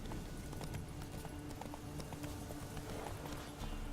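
Roach, Geralt's horse in the video game The Witcher 3, galloping with a rapid, continuous clip-clop of hooves under a dense, steady game soundscape at a low, even level, with no talking.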